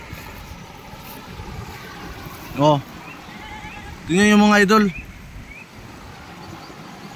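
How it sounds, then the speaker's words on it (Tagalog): Clear stream water flowing over stones on rural farmland, a steady broad rush that runs the whole time beneath a voice speaking in short bursts. "Yan, flowing water."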